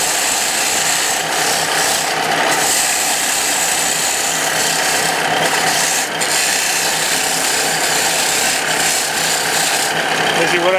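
A woodturning tool being sharpened makes a loud, steady, continuous rasping grind for about eleven seconds, with no break and no talking.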